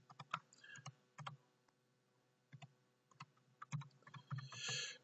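Clicking keystrokes on a computer keyboard as an address is typed into a Word document, coming in short bursts with pauses between them and a faster flurry near the end, close and fairly quiet.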